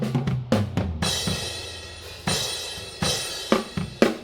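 Drum kit heard through overhead microphones: washy cymbal crashes ring out between sharp hits, with kick and snare bleeding in underneath.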